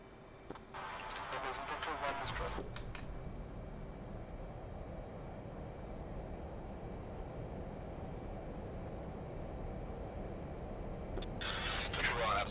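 An F/A-18 Hornet jet in the flight simulator DCS rolls for takeoff, a steady engine roar building across the runway run, with brief radio chatter at the start and end.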